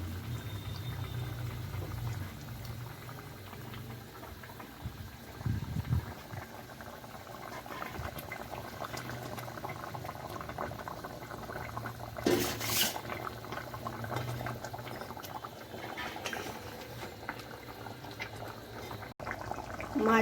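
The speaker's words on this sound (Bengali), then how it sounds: "ঝোল ফুটে গেছে, এবার এর মধ্যে মাছগুলো দিয়ে দেব" Katla fish curry broth bubbling in a pan, a steady close simmering hiss and gentle bubbling that continues unbroken with no talking.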